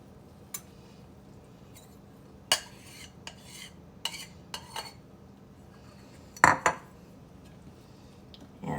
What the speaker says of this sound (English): I'm going to begin stirring that all together and mixing it